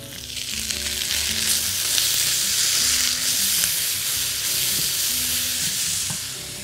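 Fried eggplant sits in a hot pan with no added fat as garlic goes onto it, giving a continuous close hissing sizzle with faint stirring clicks throughout.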